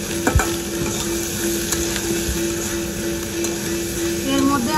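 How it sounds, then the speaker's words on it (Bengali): Curry with turmeric and salt being stirred and fried in a pan, a continuous close sizzle with a few sharp scrapes and knocks of the spoon, faint talk beneath. "ভালো করে একটু কষিয়ে নেব তরকারিটাকে।"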